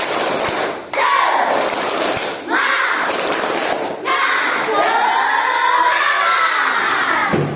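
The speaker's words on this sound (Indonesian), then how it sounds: "Tepuk semangat." Students in a classroom doing a rhythmic spirit clap, patterned bursts of clapping separated by short pauses, with loud chanting and shouting voices throughout.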